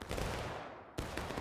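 Musket volley gunfire from a line infantry company in the War of Rights video game, a dense crackling burst that fades, then a sharp second volley erupts near the one-second mark.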